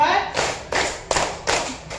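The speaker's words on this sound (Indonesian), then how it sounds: "Kita tepuk fokus dulu." A classroom of children claps a focus pattern together, four sharp group claps spaced roughly evenly apart, each landing as a crisp burst with brief quiet between.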